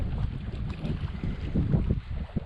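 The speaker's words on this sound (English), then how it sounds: "It's a little windy right now." Steady wind buffeting the microphone outdoors by a bay at a canoe campsite, a loud continuous low rumble that gusts and swells throughout.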